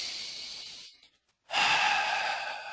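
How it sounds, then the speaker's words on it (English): A single deep breath taken during a tapping exercise: a breathy exhale fades out, a short silence follows, then a strong airy inhale rushes in close to the microphone. "And we tap for 1 deep breath."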